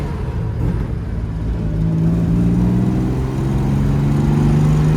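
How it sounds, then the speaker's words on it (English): A 1958 Jaguar XK 150 engine revs steadily and loudly with a deep exhaust note, pitch climbing gradually as it pulls through a gear. "Just a glorious, glorious sound out of the motor and the exhaust."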